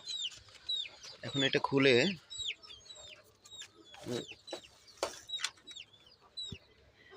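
Chickens cluck and chatter in a pen, with repeated short calls close by. A person talks briefly over them.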